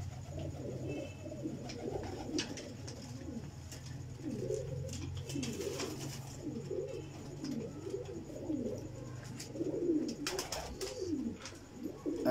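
Pigeons in a breeding setup coo steadily throughout, several birds overlapping in soft rolling calls, close and continuous with no speech.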